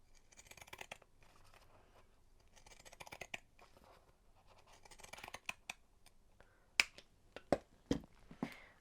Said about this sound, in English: I'm going to use my pinking shears up the side as well